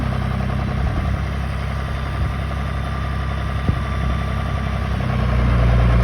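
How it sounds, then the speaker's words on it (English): Tractor-mounted crop sprayer on a farm beginning to spray: a loud, steady low diesel engine rumble with a continuous droning hum, close by and without talk. "Here goes the sprayer."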